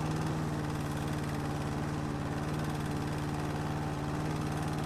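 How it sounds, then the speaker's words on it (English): A lawn mower engine in the video game House Flipper drones steadily and loudly, a continuous buzzing mid-pitched motor hum with no pauses or talk. "this goddamn lawnmower is really loud"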